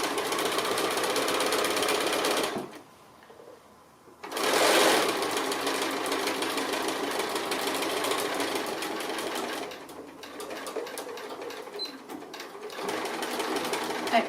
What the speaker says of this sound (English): I just want to do a little back stitch. And then all the way down to the end